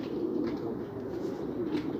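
Pigeons coo softly and steadily while drinking water, in a continuous low murmur with faint rustling and occasional higher chirps over a constant background hum.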